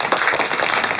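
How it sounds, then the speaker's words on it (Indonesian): A class gives a short burst of applause for a student's zoo miniature art project, several people clapping close by in a brief, lively patter. "Mary mengajak semuanya memberikan tepuk tangan atas pencapaian Justin"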